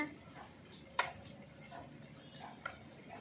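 Lids of small clay spice pots being handled, giving two sharp clinks against soft, faint background noise.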